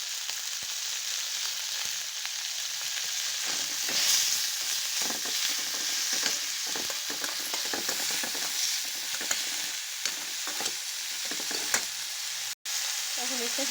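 Chicken pieces with noodle masala and salt fry in a pan, giving a steady sizzle broken by frequent scraping and stirring strokes, close and without speech.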